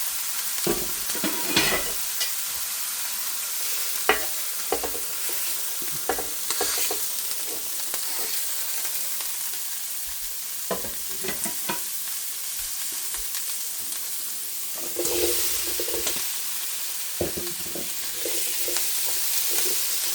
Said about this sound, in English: Give it a quick stir. Throw in our potatoes.